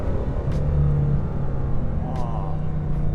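A Bugatti Chiron's engine rumbles steadily with a sustained low drone while accelerating, and brief higher bursts mark quick, instant downshifts; loud and close, heard from inside the car with no talk.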